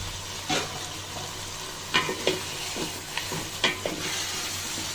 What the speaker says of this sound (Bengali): চিকেনটা দিয়ে মশলার সাথে ভালো করে নাড়াচাড়া দিয়ে মিশিয়ে নিব